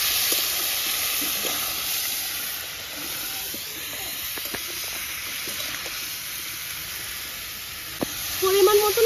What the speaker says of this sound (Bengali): এবার আমি দিয়ে দেবো কেটে রাখা সবজি। ভালো করে কষিয়ে নেবো লবণ হলুদ দিয়ে।